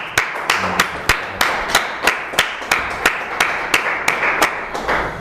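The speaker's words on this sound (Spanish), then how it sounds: "pido un aplauso para el ponente" Steady clapping from an audience after a lecture on Cardinal Cisneros's reform, sharp regular claps about three per second, fairly close and loud, with no talk over it.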